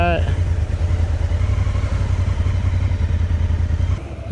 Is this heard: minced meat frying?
no